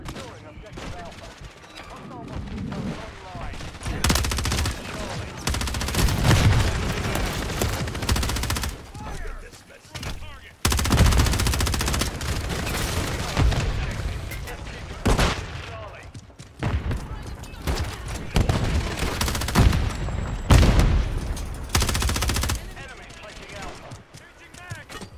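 Repeated bursts of gunfire in a Warzone multiplayer match crackle and rattle in clusters, some loud and close, others more distant, with voices talking over and between the shots.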